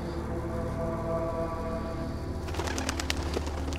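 Birds coo in a video game, a soft steady run of low calls over a constant game soundscape, with a few brighter clicks and chirps toward the end; no one speaks.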